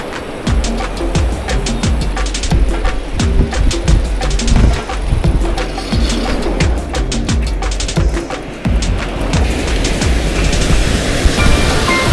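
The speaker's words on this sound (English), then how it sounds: "You have waterfalls everywhere here in Norway." Steady roar of rushing water from a waterfall in a Norwegian fjord near Flåm, a broad continuous wash of noise filling the whole stretch, fairly loud and close with no talk over it.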